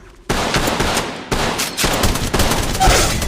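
Rapid automatic gunfire in the video game Apex Legends, dense bursts of shots following a brief quiet start and continuing loudly through the rest of the clip.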